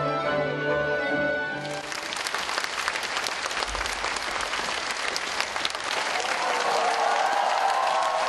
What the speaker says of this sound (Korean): 뜨거운 박수와 환호가 그를 맞이했는데요